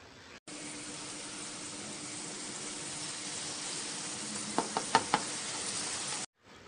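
Turmeric powder is stirred into a Bengali fish curry with vegetables in a hot pan: a steady, even sizzle of frying, with a few sharp spoon knocks against the pan near the end.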